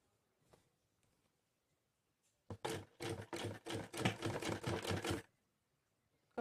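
A sewing machine stitches a Patiala salwar in a run of rapid, steady stitching bursts lasting a few seconds, close and fairly loud, with a faint click before it starts.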